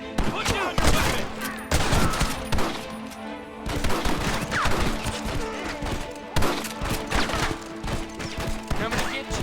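Rapid bursts of gunfire crack through a Red Dead Redemption shootout, shots layered dense and loud over constant action, with shouting voices mixed in throughout.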